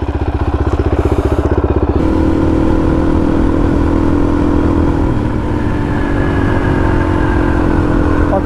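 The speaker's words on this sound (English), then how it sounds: "every DRZ I've had, motor sounds like shit" A Suzuki DRZ400 motorcycle engine while riding: a loud, close single-cylinder thrum with a rapid pulsing beat at first, then a steady rough drone with rising pitch as it accelerates, plus wind rumble.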